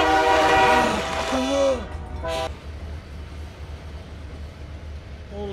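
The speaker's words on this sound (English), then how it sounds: "Is that a train whistle?" A train whistle blows in Farming Simulator 19: loud tonal toots in the first two and a half seconds, the last one brief, then fading to a low steady rumble.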